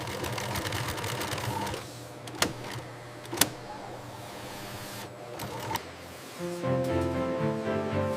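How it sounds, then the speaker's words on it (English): An industrial sewing machine stitches details and branding onto a gaming chair in a factory, running in bursts of rapid whirring with brief pauses and a few sharp clicks, fairly quiet. "Details are stitched into place. Branding is sewn, not printed."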